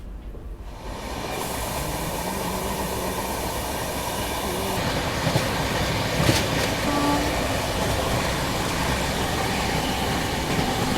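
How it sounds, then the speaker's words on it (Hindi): A passenger train rolls steadily on the line to Rajahmundry railway station, a loud, continuous rumble of wheels and carriage noise close by, with faint clicking and a brief brighter burst partway through. "हमारी ट्रेन बस पहुंचने वाली है राजामड्री रेलवे स्टेशन"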